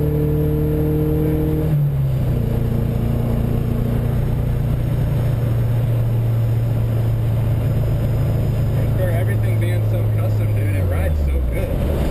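Small engine of a fully working car built from plasticine, misfiring badly, runs loud and steady close by with a falling pitch toward the end as it winds down, while people talk over it.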